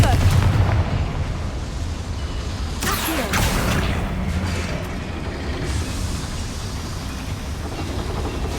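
The Confringo fire spell goes off in Hogwarts Legacy as a booming, rumbling explosion burst amid constant dense battle noise and rushing effects, loud and sustained throughout.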